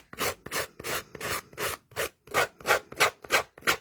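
Rough edge of a paper pad sanded in about eleven quick, evenly spaced rasping strokes, close and fairly loud with nothing else heard.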